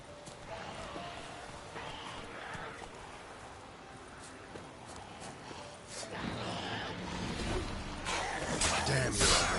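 Roach, a horse in The Witcher 3, clip-clops along in the game, hoofbeats mixed with ambient game sound and light voices, growing louder and busier toward the end.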